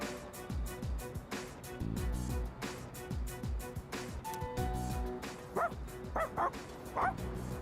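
A stray dog in the game Persona 3 Reload barking repeatedly in a steady rhythm with some yips and whimpers, close and clear, over background game music and occasional speech.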